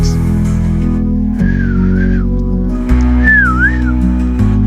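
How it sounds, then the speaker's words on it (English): Someone gives two clear, low, wavering whistles as a secret call, each lasting under a second with a short pause between, close and distinct over steady low background tones. "she heard a low whistle from the gate"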